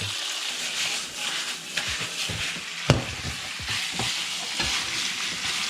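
Steady sizzling of pork frying in hot vegetable oil, with occasional stirring clatters and pops throughout, fairly quiet and close.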